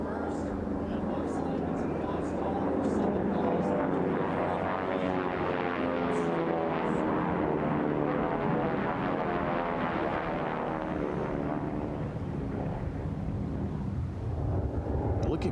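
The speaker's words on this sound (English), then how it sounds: "Listen in to these beautiful 9-cylinder radial engines." Racing airplanes with 9-cylinder radial engines roar past at an air race, a dense continuous drone that swells and slowly fades over about fifteen seconds.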